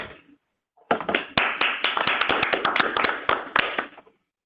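Meeting participants clap, with a brief sound at the start, then a short burst of distinct, closely spaced hand claps, fairly near and irregular, that tails off after about three seconds.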